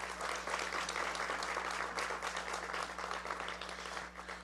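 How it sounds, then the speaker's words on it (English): Steady applause from a crowd at a mayor's faith leaders breakfast, dense overlapping claps holding an even level from start to finish, with a low electrical hum underneath. "Let us give our mayor another round of applause."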